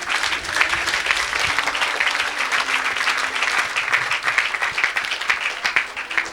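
A church congregation applauds with dense, sustained clapping that stays loud and fairly even, with no break from start to finish.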